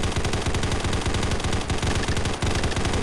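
Dense, continuous automatic gunfire from the video game Combat Masters, loud rapid bursts that run without pause for the whole stretch, with no talk over them.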